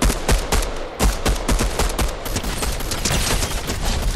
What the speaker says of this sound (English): Somebody's shooting at me, dude.